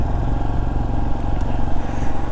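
Motorbikes on a high-altitude road at Sarchu on the way to Ladakh, a steady close engine drone and rumble that runs throughout with light rattling, no voices over it.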